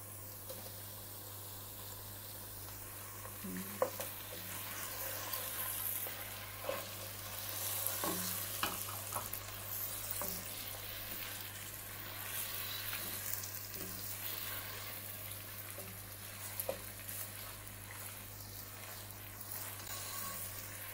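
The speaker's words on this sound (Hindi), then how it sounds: "इसी तरह से चम्मच हिलाते हुए इसे 1 से 2 मिनट के लिए थोड़ा सा भून लेंगे।" Mutton fries with onion and ginger garlic paste in a pot, a quiet, steady sizzle with the occasional soft clink and scrape of a stirring spoon, close and continuous throughout.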